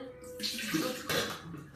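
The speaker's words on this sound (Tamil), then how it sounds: "கொஞ்சமாக பானையை கழுவிட்டு" A cooking pot being rinsed with water in a home kitchen, with uneven splashing and sloshing bursts of water close by and no voices.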